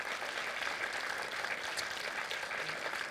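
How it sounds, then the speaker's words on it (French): An audience applauds at the closing ceremony of the Effets Stars 2017 festival, a dense, even wash of clapping from many hands that stays steady throughout, with no voices on top. "Dernier applaudissement pour eux."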